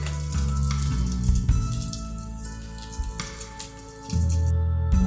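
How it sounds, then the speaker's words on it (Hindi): Egg kababs of egg and potato frying in a pan of hot oil over medium flame, a steady close sizzle and crackle running throughout with bursts of spattering. "दूसरे साइड से भी इसे इसी तरह से फ्राई करेंगे"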